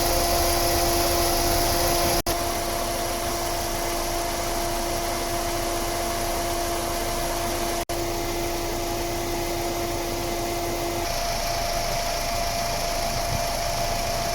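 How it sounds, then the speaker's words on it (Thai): Both radiator cooling fans of a Chevrolet Optra run after the AC compressor O-ring replacement, a steady loud whirring drone with a constant tone throughout, no voices. "พัดลมทำงานปกติทั้งสองตัว"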